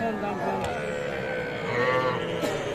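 Cattle moo and low at a busy rural cattle market where a young bull calf is for sale, the calls rising over continuous crowd chatter and people talking nearby.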